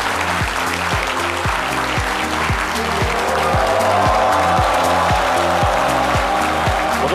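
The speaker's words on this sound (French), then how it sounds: "Déroulons-lui un tapis rouge d'applaudissements" An audience at an event welcoming the minister of water and forests applauds steadily, with music carrying a regular beat running underneath the clapping.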